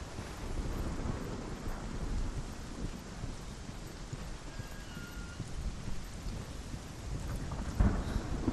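Rain and rolling thunder in the video game Hellblade: Senua's Sacrifice, a steady broadband wash of rainfall with low rumbles that swell and fade, plus a sharper crack near the end; no one talks.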